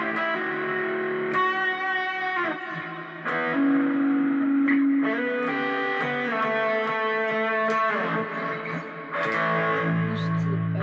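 Electric guitar run through effects pedals with distortion, reverb, chorus and echo, playing the verse of a song as sustained, shimmering chords and held notes that ring out loudly and continuously.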